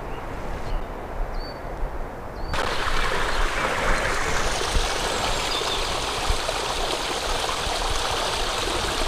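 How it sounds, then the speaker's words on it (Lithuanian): A clear stream of water tumbles down from higher ground, its steady broadband rush swelling loud and close after a quieter opening, continuous and unbroken with no voices. "Tai švaras vanduo ko gero iš viršaus eina."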